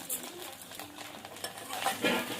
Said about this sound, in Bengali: চিনিটা দিয়ে একটু নাড়াচাড়া করে নেবো